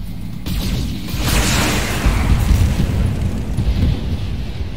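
A turret blows up in the mech combat video game Battletech with a loud, deep boom and a rushing blast that swells and rumbles on for several seconds, with no talking.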